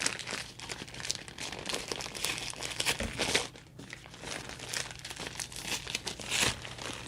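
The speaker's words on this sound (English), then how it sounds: "I like the quality of their tissue paper." Thick tissue paper from a Prada Saffiano Fiocco bow camera crossbody bag box crinkles and rustles continuously up close, soft, dense crackling handled steadily with no talking.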